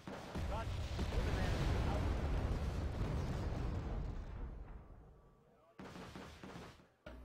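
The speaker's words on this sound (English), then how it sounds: "right now they are under artillery fire" Artillery fire in Wargame Red Dragon rumbles as a dense, heavy barrage of booming impacts that swells, then fades toward quieter ground noise, followed by a couple of short sharp bursts.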